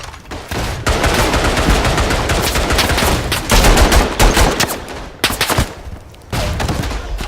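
Loud, sustained machine gun fire in the First World War shooter Verdun rattles in long rapid bursts, broken by short pauses, with no talking over it.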